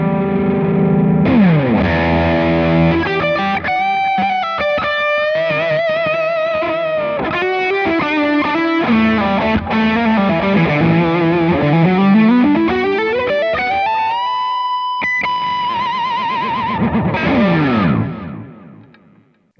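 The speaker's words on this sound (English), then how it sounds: "What's better than having a modded version of some of the most famous overdrive and distortion pedals?" Electric guitar played through Keeley 4-in-1 series overdrive and distortion pedals, a loud, saturated continuous run of riffs and sustained chords with no talk, ending in a ringing chord that fades out.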